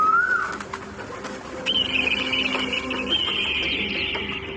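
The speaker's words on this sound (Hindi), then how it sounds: "दूसरे दिन सुबह में कोयल आकर कूकने लगती है।" A rising whistle-like bird call opens, then a long sustained high tonal call runs over background ambience and a low hum, with soft chirps scattered through; it sounds like a koel or similar bird calling in a village setting.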